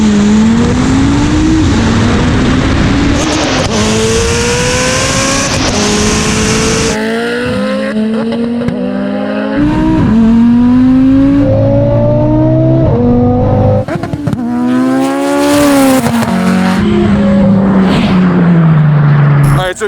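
An Audi RS3 and a Mitsubishi Evo VIII, both all-wheel drive, drag race with loud, near engines revving hard through rising gear sweeps and shift drops, with bursts of wind and crowd noise and people talking throughout.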